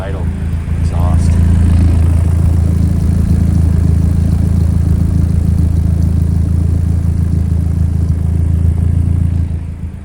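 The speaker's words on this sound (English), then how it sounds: "So let's have a listen to that idle exhaust." A 2005 Caterham roadster replica idles through its side-pipe exhaust with a steady, deep, throbbing rumble that holds evenly throughout, close and loud.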